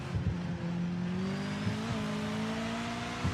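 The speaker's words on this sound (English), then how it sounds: "this is what the MX-5 Cup car sounds like" A Mazda MX-5 Cup race car engine in a racing video game drones at a steady high pitch, holding nearly constant with small shifts, loud and unbroken throughout.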